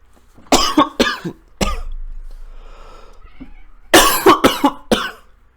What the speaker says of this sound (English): I just had like a coughing attack